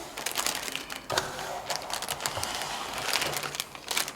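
Plastic packaging for a model cake kit crinkles and crackles as it is pulled open, a close, busy run of rustling bursts with no talking.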